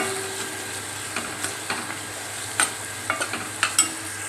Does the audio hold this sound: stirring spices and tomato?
yes